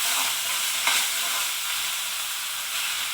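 Chole, a chickpea curry masala, sizzles steadily in a pan as it is stir-fried, a dense, even hiss with a faint scrape of the spoon near the middle and no voices.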